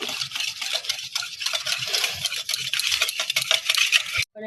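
Semolina being stirred in a bowl gives a continuous gritty, scraping rustle with quick irregular strokes, close and fairly loud, stopping briefly near the end.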